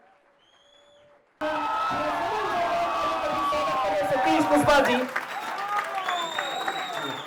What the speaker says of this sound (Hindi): तालियां आप लोग बजाते रहें